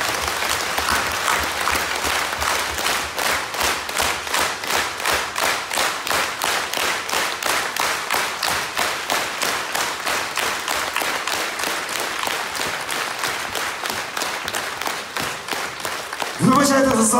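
Loud, sustained audience applause fills a concert hall in Zolochiv after a performance, dense rhythmic clapping that swells and carries on steadily before breaking off near the end.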